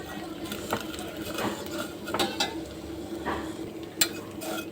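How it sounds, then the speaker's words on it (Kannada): Vermicelli stirred and frying in ghee in a pan for a sweet payasam, a soft continuous sizzle with intermittent scraping and clinking of the spoon, one sharper knock near the end, no voices. "ನೋಡಿ ಫ್ರೆಂಡ್ಸ್, ಸೇಮೆ ಹಾಕ್ಕೊಂಡಿದ್ದೀನಿ. ತುಪ್ಪದಾಗ ಫ್ರೈ ಮಾಡ್ಕೋಬೇಕು."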